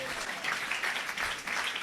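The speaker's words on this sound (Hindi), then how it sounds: "अपने लिए जोरदार तालियां बजाएं।" Applause from a church congregation during a live New Year sermon, a brief, steady wash of clapping at moderate level throughout.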